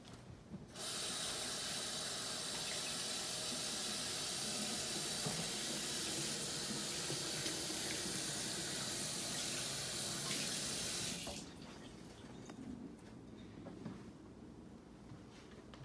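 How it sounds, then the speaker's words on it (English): Tap water running steadily into a kitchen sink while hands are rinsed, a loud continuous hiss for about ten seconds before it shuts off to quieter room sound. "Let me rinse my hands."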